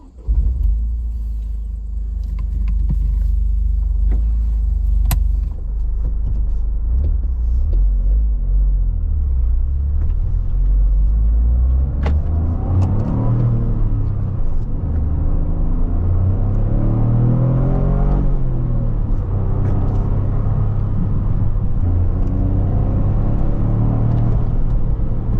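A 2023 Toyota GR Corolla engine rumbles loudly and continuously, the pitch rising and falling as it pulls and accelerates out of a corner in third gear, heard from inside the vehicle.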